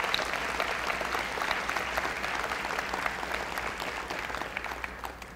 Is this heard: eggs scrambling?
no